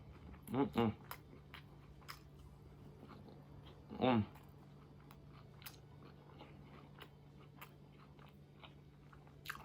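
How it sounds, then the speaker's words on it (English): Close-up crunchy chewing of crunchy flatbread, with a couple of louder bites standing out over a quiet background hum. "you hear that crunch?"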